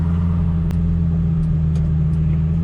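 A car engine fitted with a Fab Speed straight pipe exhaust idles with a loud, steady low rumble, continuous and close throughout, with one brief sharp click partway through.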